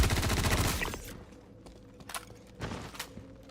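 Rapid automatic gunfire from a weapon in the video game Tin Can, a dense loud burst in the first second that cuts off, followed by a few scattered shots and thuds.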